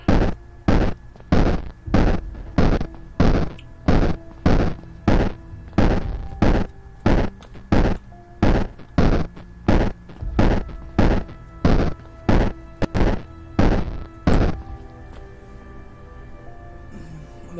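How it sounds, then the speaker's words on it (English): Fireball spells blast repeatedly in the game Broken Wizard, loud evenly spaced booming bursts about every half second for fourteen seconds, then stopping, with no talking over them. "The freaking fireball thing is so loud"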